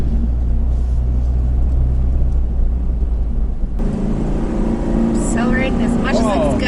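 A Ford F650 dump truck's heavy engine drones low and steady on a mountain drive, then revs harder and louder at full throttle partway through, with a voice talking over the roar.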